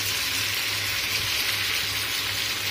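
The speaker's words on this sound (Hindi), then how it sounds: "तो ये हम सब पीस पलट देते हैं" Lemon pepper chicken pieces fry in a pan after being flipped, giving off a steady, close hiss and sizzle of hot oil with no voices.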